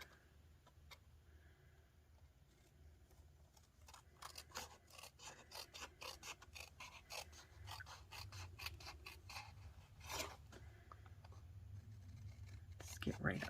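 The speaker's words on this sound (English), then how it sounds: "we're going to take our snips and we will cut around" Snips cut through paper card for a handmade birthday card, producing a quick run of close, crisp snipping clicks in steady rhythm with a brief rustle partway, under soft talk.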